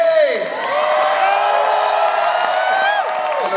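A theater audience at a drag queen Christmas show cheers, whoops and shouts over a host's amplified voice, a loud, sustained crowd roar.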